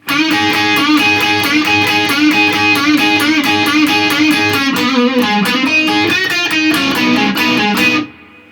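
Electric guitar tuned down a half step plays the opening line of a solo, a loud distorted lead with bends and sustained notes over a steady backing, ending abruptly after about eight seconds.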